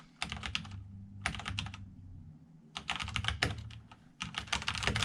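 Typing on a Corsair K63 wireless keyboard, close and crisp, in several quick bursts of key clicks separated by short pauses, with no talking.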